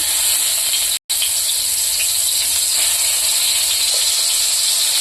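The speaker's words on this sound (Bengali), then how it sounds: "তেলটা গরম হয়ে গেছে ওর মধ্যে দিয়ে দেব দু চামচ পেঁয়াজ বাটা" Onion paste hitting hot white oil in a wok gives a loud, dense, steady hiss, briefly cut by a short gap of silence near the start, then continuing unbroken with no talk.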